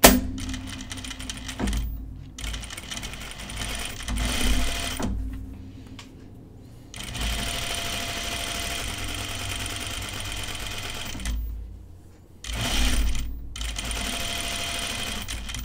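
A sewing machine stitches French seams on a Cheyenne tunic, running in steady sustained bursts with brief pauses between runs, close and fairly loud.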